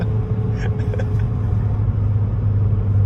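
A Fiat 500 Abarth tuned to Stage 1 pulls hard under sustained acceleration, a steady low engine drone and road rumble holding loud and close throughout, with no pause or gear break.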